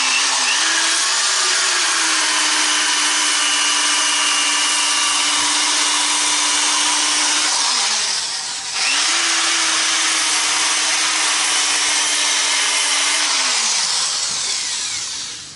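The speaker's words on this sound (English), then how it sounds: "that drill with that wire wheel takes that silicone right off of there" Handheld drill spinning a wire wheel to strip silicone off scrap aluminum, a loud steady whine that dips briefly midway before spinning back up, no talking.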